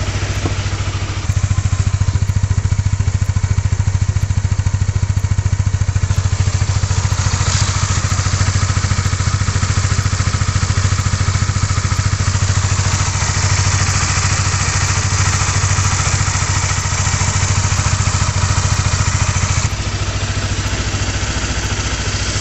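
A Honda CBR 150R/250R motorcycle engine idling steadily to warm up before an oil change, a loud, close, continuous mechanical drone with a faint clatter throughout.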